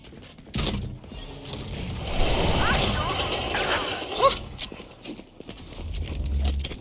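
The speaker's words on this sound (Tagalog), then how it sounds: "Reloading" Mechanical clicks, ratchet-like clacks and metallic rattles of a weapon reloading in a video game, mid-level and busy, over steady game noise with voices talking around it.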